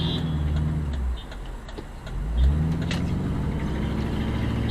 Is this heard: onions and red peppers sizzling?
no